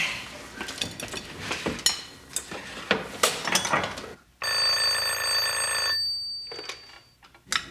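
A telephone rings with a bright, sustained electronic bell tone for under two seconds, after a stretch of clattering dishes and knocking household sounds.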